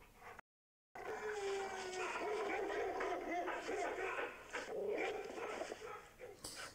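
Wild dogs in a kingdom-ruling video game, yapping, whimpering and barking in quick bursts beneath someone narrator's voice that talks over most of the sound.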